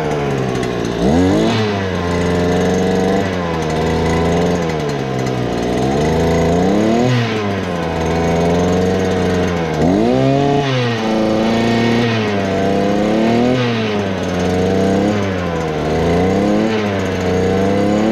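A Lidl petrol garden tool, a hedge trimmer, pole pruner or brushcutter, runs after starting, its small two-stroke engine revving up and down repeatedly in close, loud surges with a buzzing idle between.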